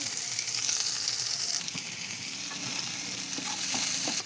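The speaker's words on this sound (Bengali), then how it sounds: "এবার পেঁয়াজ দিয়ে দেব। পেঁয়াজটা পুরো লাল লাল করে ভেজে নেব।" Onions sizzle steadily in a pan of hot oil while a filling for vegetable momos cooks, a dense, constant frying hiss with a few faint stirring knocks, close and fairly loud, with no talking.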